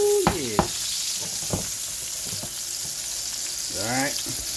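A T-bone steak sizzles steadily in a hot pan, the constant frying hiss broken by a few sharp pops and brief scraping clatters. No one speaks.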